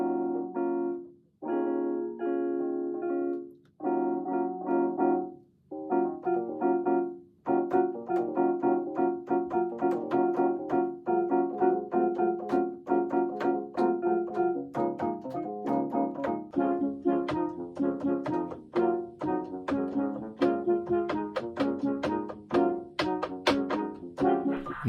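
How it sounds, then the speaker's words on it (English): Piano preset on a small toy keyboard, playing a melody of sustained chords and then quicker single notes, with bright, tinny tones and steady loudness throughout and no voices. "which is the piano. It sounds like this."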